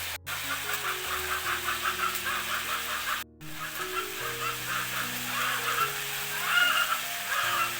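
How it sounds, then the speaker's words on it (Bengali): Village chickens cluck and call repeatedly at close range over a steady low droning hum, with the calls rising and falling throughout and a brief cut near the middle. "মুরগি এমন ডাকা ডাকতেছে"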